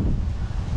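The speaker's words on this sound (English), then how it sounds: "I hope the wind isn't bothering y'all" Steady low rumbling wind buffets a microphone outdoors near a workbench vise, a continuous close roar with no pauses and no talk.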